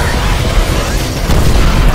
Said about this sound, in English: I'm just shooting scavengers like crazy